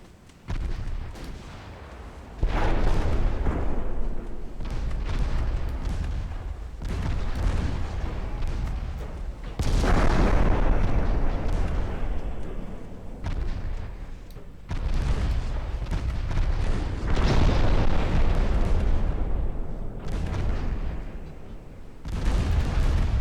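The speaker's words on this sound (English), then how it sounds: "just got absolutely wrecked by 5-inch guns" Heavy naval gunfire from 5-inch guns on warships in a naval combat game booms again and again, loud deep blasts arriving in several bursts with rumbling decay between them, with no talk.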